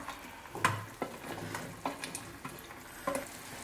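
Fried chicken pieces drop into a reducing chicken pickle masala in a pan, with a low steady sizzle broken by a few sharp clatters and scrapes as the pieces land and are moved about, close and moderately loud.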